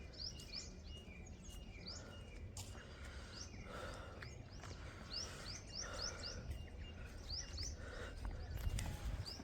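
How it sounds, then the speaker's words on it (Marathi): Birds chirp in the early morning over farmland along the Narmada riverside. Repeated short, high tweets come from several points at moderate distance above a low, constant background rumble. "पक्ष्यांचा आवाज"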